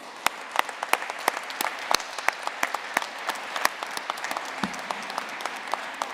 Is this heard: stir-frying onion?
no